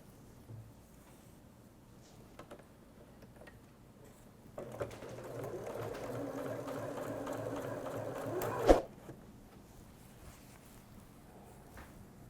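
A Janome sewing machine stitches patchwork tote pieces in one steady, moderately loud run of several seconds, ending in a sharp click, with quiet room sounds before and after.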